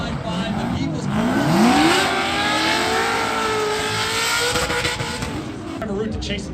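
A BMW drift car at a drifting competition screams through a high-revving run, its engine note rising and falling as the tires squeal continuously, loud and close, under a commentator's voice.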